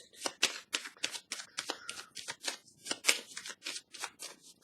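Tarot cards being handled and laid down in quick succession, a steady run of crisp close papery slaps and flicks with no voices.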